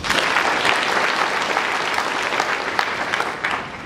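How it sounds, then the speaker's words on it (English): An audience claps steadily and loudly throughout, a dense sustained round of applause that eases slightly near the end. "Give them a round of applause."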